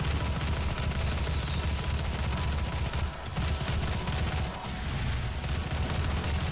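Rapid, continuous gunfire from the video game DOOM (2016), a dense barrage of loud shots and explosive blasts with only brief dips, no voices over it.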